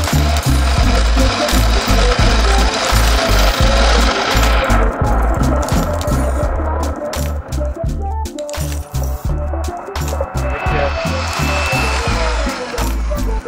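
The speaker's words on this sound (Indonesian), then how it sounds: "selanjutnya kita pakai mixer aja biar aku nggak usah mengaduk terus" Electric hand mixer whipping coffee, a loud continuous buzzing whir with rapid rattling beats against the bowl, close and steady throughout.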